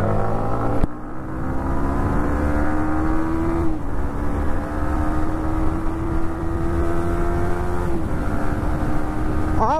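Yamaha MT15 motorcycle fitted with a new chain sprocket, ridden at high speed: a loud, steady high-revving engine drone with a few distinct gear shifts and wind rush, with no talking.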